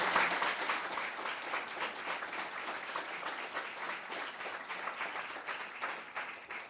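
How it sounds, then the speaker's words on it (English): An audience at a celebration of one hundred years of women applauds warmly, with a steady wash of many hands clapping close by that eases only a little over several seconds. "I think she deserves a round of applause for this."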